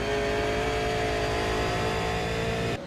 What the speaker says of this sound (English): He's got it revved up again.